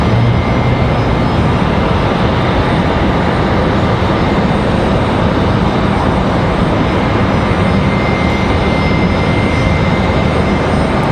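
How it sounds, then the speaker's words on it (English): A Delta CRJ regional jet taxiing for departure at Raleigh-Durham airport, a loud, unbroken roar of jet engine noise that holds steady throughout with no pauses and no talking. "We've also got that Delta CRJ out there getting ready for their departure."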